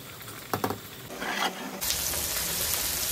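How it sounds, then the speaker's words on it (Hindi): Onions frying in a kadai, starting with a few stirring clatters and then a sudden, steady, close sizzle that fills the rest of the short stretch, with no one speaking. "जो प्याज है वो मैंने इस कढ़ाई में डाल दिया, अब उसको मैं अलग से फ्राई कर लूँगी"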